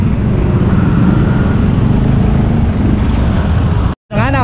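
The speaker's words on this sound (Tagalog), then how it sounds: "Traffic pa, traffic." Dense road traffic in Concepcion, Malabon, with cars and motorcycles rumbling loudly and continuously close by, cutting out briefly near the end before the engine noise returns.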